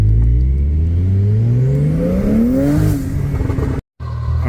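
A car's turbos spool up during hard acceleration on a chilly day, a loud rising engine whine and roar that climbs steadily in pitch, then cuts to a brief silence before the engine noise resumes.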